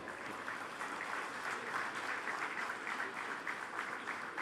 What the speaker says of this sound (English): The applause doesn't have to stop.